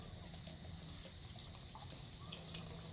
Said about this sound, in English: I'm going to go ahead and just pour in 8 ounces.